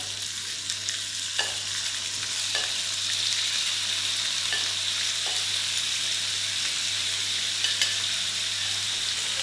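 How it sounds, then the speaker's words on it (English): Chicken searing in a hot pan for chicken satay, a constant loud broadband sizzle running throughout, with occasional faint clicks and taps of a utensil against the pan. "Then I'm going to drop the chicken into the pan. Now when the meat hits the heat, don't start moving it around"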